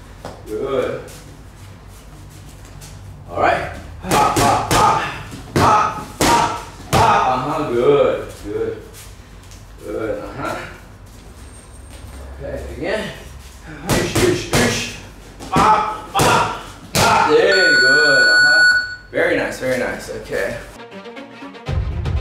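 Thai boxing punches striking pads in one-two-hook combinations, repeated sharp thuds in quick bursts between stretches of a coach talking, loud and close.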